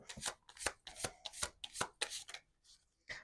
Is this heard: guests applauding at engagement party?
no